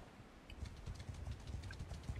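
Horse hooves clip-clop in the video game Mount and Blade II Bannerlord, a quiet, fairly quick run of soft thuds with no talk over it.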